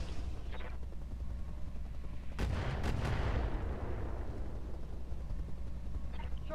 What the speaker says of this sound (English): But I can use my mortar on this guy.